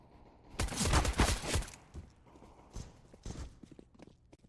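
Pistol fire in a Counter-Strike: GO match on Mirage during a pistol round, a quick cluster of sharp, close shots followed by scattered lighter clicks and footsteps.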